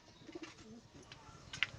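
Male pigeon of a flying breed (Madrasi) giving a soft, brief coo amid quiet background rustle, with a faint sharp chirp near the end.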